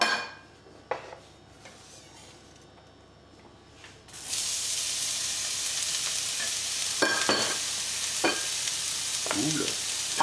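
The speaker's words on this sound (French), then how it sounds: "dans une poêle chaude, on va mettre un filet d'huile d'olive et on va faire revenir" Onion hitting a drizzle of olive oil in a hot pan bursts into steady, loud sizzling partway through, preceded by quiet kitchen clatter, with occasional utensil scrapes and clinks over the continuous frying hiss.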